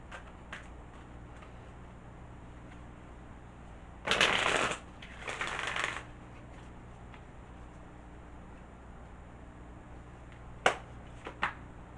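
Dragon Oracle cards are shuffled in two quick riffling bursts, close and fairly loud against a quiet room hum, followed near the end by a couple of sharp card snaps. No one speaks.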